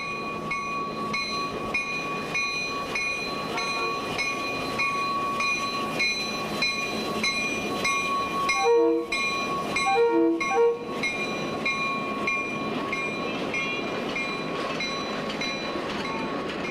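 A Santa Cruz, Big Trees & Pacific Railway train rolls through the streets of Santa Cruz with a steady rumble and ringing metallic tones, and a couple of brief horn-like blasts sound near the middle.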